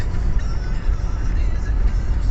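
A car drives along the Kyiv–Dnipropetrovsk highway leaving Kremenchuk, a steady low road and engine rumble heard from inside the vehicle, continuous and moderately loud.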